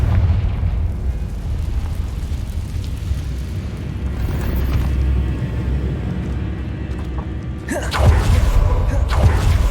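A blasting-spell explosion in the video game Hogwarts Legacy, cast inside a cave, gives a loud burst near the end over a steady rumbling game backdrop.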